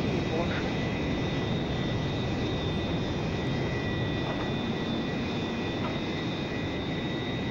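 Constant roar of a Su-27 jet engine in a flight simulator game, with a steady high whine, loud and unbroken from start to finish.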